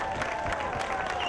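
Crowd applause for a gospel band at an outdoor Portugal Day heritage celebration in Lowell, Massachusetts, a steady, dense patter of clapping heard at mid distance throughout the short stretch.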